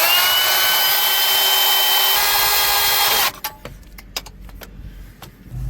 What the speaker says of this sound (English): I'm gonna have to do more drilling though. So let's put a hole in here.